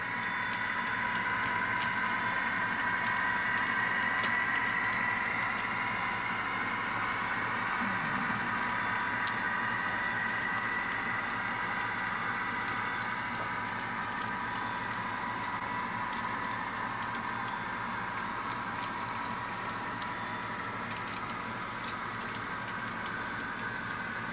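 A steady mechanical whir and hum from HO-scale model locomotives, two SD40-2s and an Alco C636, running continuously up a grade, with faint clicks of wheels on track throughout.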